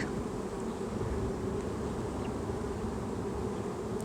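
Honeybees swarming in a freshly opened beehive give a steady, dense, close buzzing drone that fills the whole stretch without a break, with no voices.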